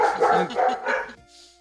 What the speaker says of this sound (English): There we go with the dogs.